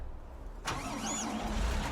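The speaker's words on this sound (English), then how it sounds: "let's grab the Fendt tractor" A Fendt tractor engine cranks and catches in Farming Simulator 19, starting abruptly after a quiet moment and settling into a steady, fairly close idle.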